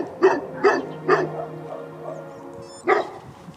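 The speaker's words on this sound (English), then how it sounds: "That's a pretty good looking street dog" A street dog barks four times close by in Greece, three quick sharp barks in a row, a pause with a low whine, then one more bark.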